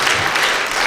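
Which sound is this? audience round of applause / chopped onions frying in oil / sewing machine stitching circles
audience round of applause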